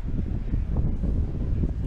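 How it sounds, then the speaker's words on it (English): Gusty wind buffets the microphone at a college baseball park, a low, steady rumble with uneven surges. "Wind gusting again here at the ballpark as it has all day."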